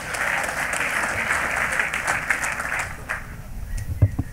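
A church congregation at an Elohim Ministry service applauds in honour of Jesus Christ, steady dense clapping sustained throughout and tapering near the end with a few louder claps.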